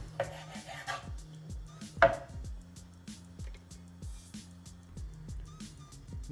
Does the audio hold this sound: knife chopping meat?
yes